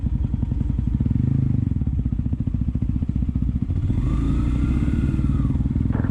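A Yamaha motorcycle rides in and is parked at a beach campsite on a Kolkata to Odisha trip, its engine chugging loudly and steadily up close, the throttle easing as it slows and settles.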